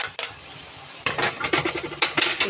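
Bell peppers and hot chili peppers sizzle in a hot pan, dropped in with sharp bursts at the start and again midway, followed by a quick series of stirring scrapes over the frying hiss.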